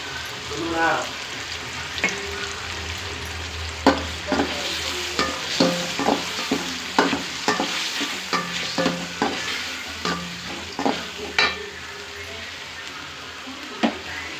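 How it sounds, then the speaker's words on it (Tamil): Curry leaves and ginger garlic paste fry in a pan for noodles, giving a steady sizzle with frequent sharp clicks and scrapes as the mixture is stirred, close and without talk. "கருவேப்பிலை போட்டுக்கலாம் இஞ்சி பூண்டு பேஸ்ட்டு போட்டுக்கலாம்"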